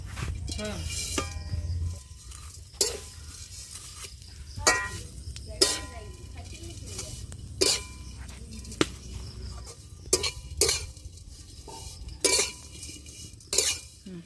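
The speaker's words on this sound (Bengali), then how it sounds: "এবারে এভাবেই আমি সিমইগুলো ভেজে নেব" Broken semai vermicelli frying in a little oil in a karai in a village kitchen, stirred with a metal spatula that clinks and scrapes against the pan every second or two over a low steady background hum.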